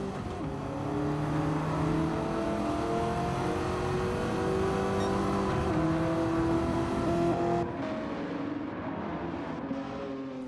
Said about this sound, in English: let's go on board with the Pantera and listen to that glorious engine note.